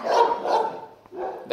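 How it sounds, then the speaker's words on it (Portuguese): A dog barks several times in quick succession nearby, loud sharp barks with a short pause before a final bark. "o cachorro tá brabo lá"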